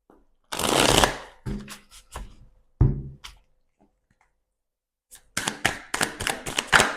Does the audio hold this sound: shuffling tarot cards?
yes